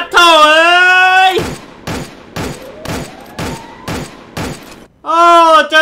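Gunfire from behind in Free Fire: a burst of about eight sharp, evenly spaced shots, loud and close, set between stretches of a loud sustained tonal sound.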